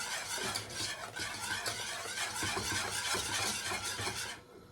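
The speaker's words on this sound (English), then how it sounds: "So we keep whisking until the thing smooth as." A whisk works through a smooth white sauce for macaroni cheese in a pan over high heat, scraping quickly and rhythmically against the metal for several seconds before stopping abruptly, close and alone.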